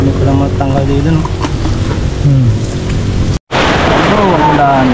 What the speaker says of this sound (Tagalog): Oh, ang ulan.